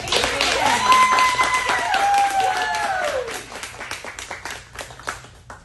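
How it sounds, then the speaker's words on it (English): Audience clapping at a Toastmasters meeting, sparse and uneven, starting under a sustained tonal sound that glides and fades, then continuing as scattered separate claps toward the end. "Let's give a warm applause for Adrian."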